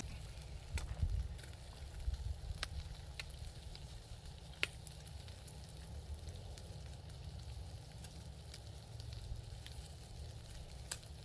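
Bacon sizzles steadily in a pan, a soft continuous crackle with occasional sharper pops, no voices.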